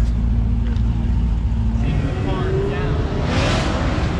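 A Dodge Hellcat drives past at a car meet during Porsche day, its engine a steady low rumble under loud crowd chatter and nearby talk throughout.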